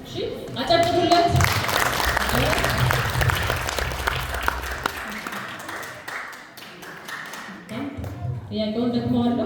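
An audience of children and youths at a church quiz competition claps for a contestant, a dense, close burst of applause lasting several seconds that fades, with a voice speaking at the start and end.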